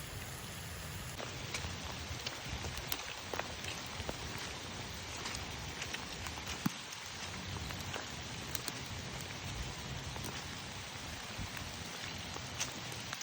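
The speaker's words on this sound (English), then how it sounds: "I guess it's gonna rain for the next hour or so" Steady rain falls outdoors along a trail near a pond, a continuous soft hiss with scattered drop ticks holding at an even, moderate level throughout, with no voices.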